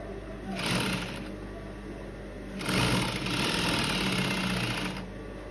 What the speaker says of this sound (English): So you can see I just turned my material and I continue sewing